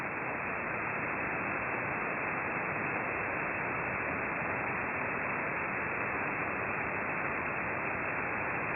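Steady, unbroken hiss of static on an amateur radio receiver tuned to a very weak signal, loud and constant with no voice audible.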